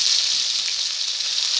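Onion and green chilli sizzle loudly in a hot pan for poha, a dense, steady hiss that stays close and constant with no pauses or voices.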